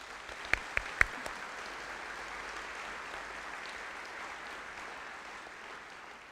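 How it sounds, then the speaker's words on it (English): An audience at an athletic scholarship celebration gives sustained, soft applause heard from a distance, with a few sharp, close claps near the start. "Please give a round of applause to our new scholarship contributors."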